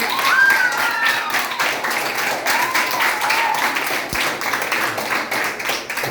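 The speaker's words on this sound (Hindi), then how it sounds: "तो अपने लिए ताली बजाइए।" An audience of children claps together in a continuous rattle of many hands, with a few voices calling out over the applause.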